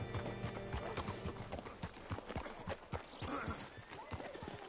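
Horse hooves clip-clop in an irregular, continuous rhythm in a PS4 video game, fairly faint, with other faint game sounds underneath.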